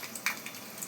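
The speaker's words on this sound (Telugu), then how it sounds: "కాస్త బంగారు రంగులోకి వచ్చే వరకు వేగనిద్దాం" Cumin and mustard seeds crackle and fry in hot oil in a pan with curry leaves, giving a soft, steady sizzle with a few brief sharper pops, close and fairly quiet, with no talking.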